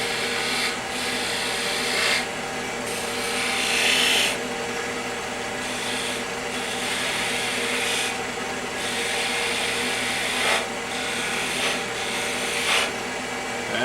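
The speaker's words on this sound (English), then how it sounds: "I'm also going to use the duo up here to turn in the top a little bit and get that bead looking a little bit better" A woodturning tool cuts a knit hat bottle stopper spinning on a lathe, shaping the top and a bead; steady scraping and rasping with bursts of brighter cutting noise over a constant motor hum, close and fairly loud, no talk.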